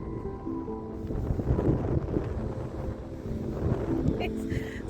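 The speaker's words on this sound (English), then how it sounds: "It's so windy and cold." Steady strong coastal wind at Dungeness, Britain, buffeting the microphone, a low roaring rumble that surges and eases throughout.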